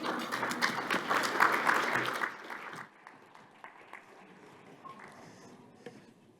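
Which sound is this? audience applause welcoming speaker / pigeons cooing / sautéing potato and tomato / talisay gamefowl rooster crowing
audience applause welcoming speaker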